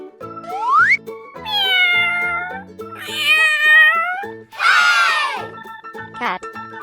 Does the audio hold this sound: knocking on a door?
no